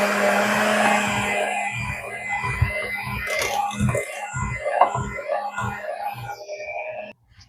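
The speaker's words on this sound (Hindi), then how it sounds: "अब हम इसे बीटर से करेंगे" An electric beater whirs through cake rusk batter in a bowl, a steady motor buzz broken by repeated rhythmic knocks and scrapes as the beaters strike the sides, close and fairly loud, stopping abruptly at the end.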